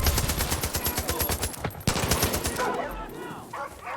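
Rapid automatic gunfire in Far Cry 5 co-op play, a fast even rattle of shots dominating the first half before a sharp crack, then scattered fainter firing and game sounds.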